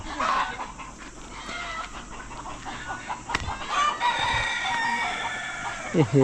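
Native chickens at a hillside farm in Saudi Arabia cluck and squawk close by, with a rooster crowing partway through and a few sharp knocks amid the busy flock noise.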